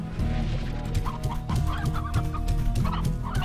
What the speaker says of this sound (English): Just a line of chickens.